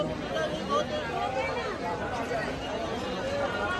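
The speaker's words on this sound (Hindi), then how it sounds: "बहुत भारी भीड़ है" Dense crowd chatter at Mahakaleshwar temple in Ujjain, with many overlapping voices forming a steady, close hubbub throughout and no single clear speaker standing out.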